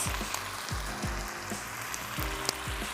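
Chopped green onion drops into a pan of sizzling chicken goulash, a steady close frying hiss with soft low thumps recurring about twice a second.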